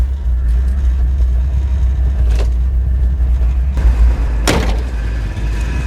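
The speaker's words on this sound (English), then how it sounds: "That power steering pump is whining." A 1977 Chevy Monte Carlo, started after sitting unused for years, idles with a steady, loud mechanical drone and a whining power steering pump. A couple of brief knocks or clunks stand out midway.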